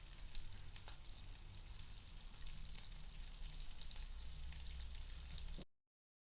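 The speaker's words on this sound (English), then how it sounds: "I've taken the butter and melting it, and then we throw in some garlic" Garlic sizzles in melted butter in a pan, a faint, even, crackling fry with tiny pops that holds steady for several seconds and then cuts off abruptly into silence.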